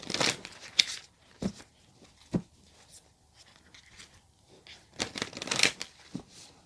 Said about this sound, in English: Let's give that a shuffle once more.